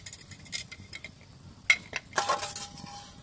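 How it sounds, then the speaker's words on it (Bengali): A metal lid comes off a pressure cooker of boiled chickpeas, giving scattered clinks and clatters of metal on metal, then a brief ringing tone and a scrape, close and fairly quiet. "এবারে ঢাকনাটা খুলে নিচ্ছি"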